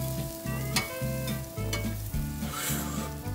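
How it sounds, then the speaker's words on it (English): Onions and burgers sizzle on a busy grill, a loud, close, unbroken frying hiss with small pops and pulsing low clatter from cooking activity, no speech. "A busy grill is a delicious grill."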